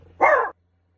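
A single short dog bark, sharp and close, followed by silence.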